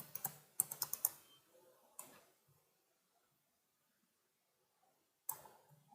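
Code is typed on a computer keyboard in a quick burst of close, crisp key clicks. A single tap follows, then a long silence, then another short cluster of keystrokes. No one speaks.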